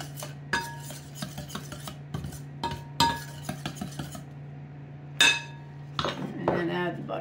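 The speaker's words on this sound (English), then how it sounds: "you take your pastry cutter and just blend that all together" A metal pastry cutter working butter into biscuit dough in a bowl, repeated scraping clinks and taps against the bowl in an irregular rhythm, close and clear, over a low steady hum.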